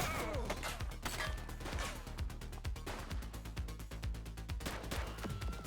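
Rapid gunfire in the police video game The Precinct, dense bursts of shots cracking continuously over a busy game soundscape with brief shouted voices.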